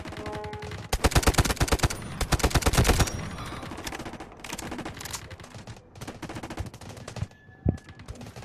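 Rapid bursts of gunfire in the video game Delta Force, automatic weapons rattling loudly in sustained volleys, then sporadic shots and a sharp single blast near the end.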